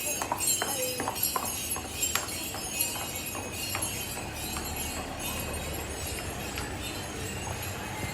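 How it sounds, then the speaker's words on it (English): Horse hooves clip-clop along a street in Mijas, Andalusia, a steady series of sharp, fairly close knocks and clinks over busy outdoor background noise. "Oh, this one's a horse."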